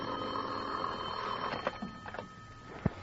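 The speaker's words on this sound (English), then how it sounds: "was almost asleep when my phone rang" An old-fashioned telephone in a 1950s radio drama rings with a sustained electric tone, followed by a few faint clicks and a short sharp knock near the end.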